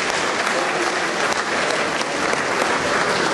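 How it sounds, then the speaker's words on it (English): Sustained applause fills a community awards ceremony at an iftar dinner as a winner is called to collect an award, a dense, steady wash of clapping from a crowd that carries evenly throughout. "Round of applause for Jamil Islam."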